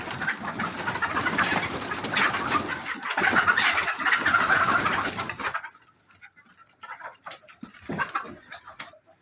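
Desi parent-stock chickens kept in a netted coop inside a house, with close, busy clucking and cooing from several birds that thins out into scattered calls toward the end.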